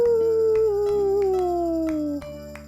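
A person imitates a wolf howl with a single sustained, close vocal note that slowly slides downward in pitch, then fades out.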